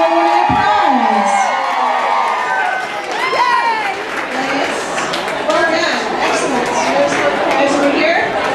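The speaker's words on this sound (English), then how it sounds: "Let's hear some applause for someone winning a prize." A crowd at an evening raffle erupts as a prize winner is drawn, mixing cheers, shouts and chatter with some clapping, voices rising loudly over the hubbub.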